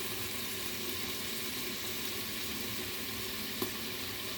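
Shrimp sizzling in a pan while being sautéed for ginisang hipon, a steady dense frying hiss that stays even throughout with a small clink near the end and no talk.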